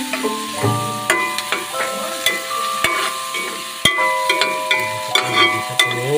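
Onion and garlic sautéing in a pan give a moderate sizzle, broken by frequent metallic clinks and scrapes of a utensil against the cookware.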